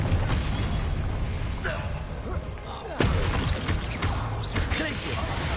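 Confringo spell blasts in the video game Hogwarts Legacy, sharp bursts and clanking combat effects layered over a dense battle din, with a sudden strong hit near the middle and voices shouting in the fight.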